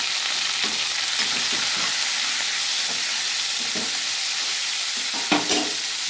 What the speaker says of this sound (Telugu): ఇప్పుడు కాకరకాయ, ఉల్లిపాయ, పచ్చిమిర్చి మొత్తం వేసేద్దాం